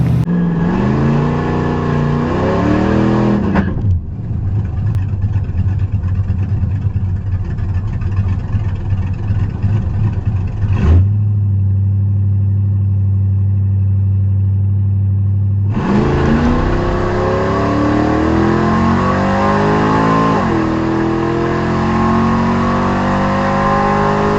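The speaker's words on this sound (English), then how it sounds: "here we are pulling into Tri-State Raceway" A race car revs hard at Tri-State Raceway, the loud engine climbing and falling through several pulls, dropping to a steady low idle, then revving up again, close and alone without talk.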